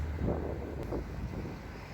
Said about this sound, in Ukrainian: дуже вітряно і дуже холодно